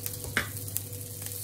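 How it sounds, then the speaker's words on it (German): Green asparagus stirred and fried hard in a pan gives a steady close sizzle, with occasional scraping clicks from stirring. "einfach schön hier richtig mit Schmackes anbraten."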